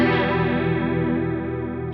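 An electric guitar runs through a Truetone V3 H20 Liquid Chorus and Echo pedal with its tone knob turned fully right, a sustained chord shimmering with slow, even chorus wobble and a brightened top end, heard alone.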